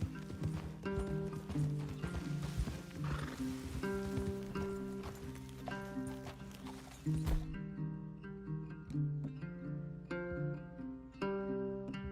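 Horses in the western video game Red Dead Redemption 2, clip-clop hoofbeats pacing steadily over game music and ambient rain, mid-distance and moderately loud, continuing after a brief loud thump.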